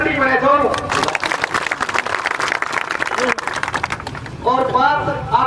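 Audience clapping at an outdoor farmers' protest gathering, a burst of applause lasting several seconds between stretches of amplified speech, with a voice heard at the start and end.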